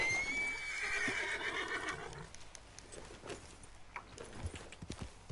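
A horse in Red Dead Redemption 2 lets out a loud, rising then wavering neigh, followed by scattered hoofbeats and soft movement sounds as the whinny fades.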